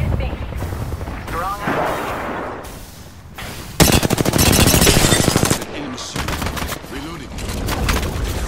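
Rapid automatic gunfire and bursts of shots ring out in an Apex Legends ranked match, loud and dense with a sustained volley midway, mixed with game effects and a character voice calling out.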